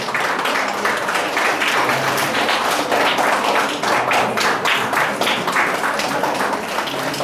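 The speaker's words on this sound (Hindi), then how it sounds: "तालियां बजती रहनी चाहिए।" An audience at a Best Teacher Award ceremony in Chamba claps steadily, loud and close, a dense unbroken patter of many hands throughout, with no talking.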